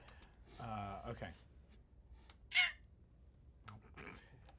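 A person imitates a fox call with a short, bright chirping squeak, like a bird, heard once mid-clip between stretches of talk.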